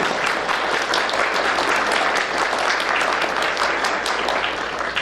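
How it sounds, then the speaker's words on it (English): Sustained, dense applause fills a room at a McKeesport Daily News panel discussion as the crowd thanks the volunteers, with steady, loud clapping throughout and no talking. "if we could give them a little more of a round of applause for the volunteers"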